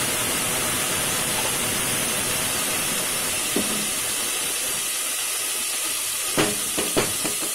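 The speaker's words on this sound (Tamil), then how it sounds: "நல்லா வதங்கினோட மின்ட் லீவ்ஸ் எல்லாத்தையுமே போட்டு நல்லா வந்து வதக்க பண்ணிடுவோம்" Mint leaves sauté in a pan with a loud, steady hiss and sizzle throughout, with a few brief clatters near the end and no voices.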